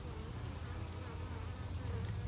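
Honey bees swarm over a hive frame around their queen, a steady close buzzing hum from many wings filling the scene with no talk.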